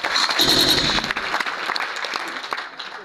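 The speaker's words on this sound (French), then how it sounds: "Est-ce qu'on peut applaudir pour ça?" Audience at a French-language business presentation applauding, a dense wash of clapping that is loudest at first and then thins into scattered claps.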